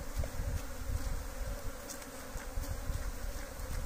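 Italian honey bees buzz continuously during a honey harvest, a dense, close swarm hum with individual bees droning past. It holds steady throughout with no talk.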